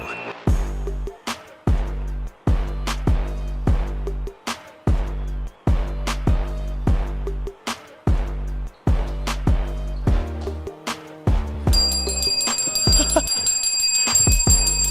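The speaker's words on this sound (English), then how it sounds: "I forgot where my table bell was, so I had to go grab it before we could go live." A handheld table bell is struck repeatedly in a quick, regular rhythm, each loud metallic ding close and ringing briefly. Musical tones come in near the end.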